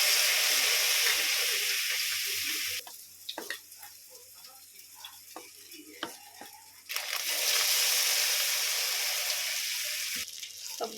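Stuffed eggs coated in gram-flour batter fry in hot oil with a loud, dense sizzle that drops away for several seconds, leaving scattered clicks and pops, then surges back to full strength.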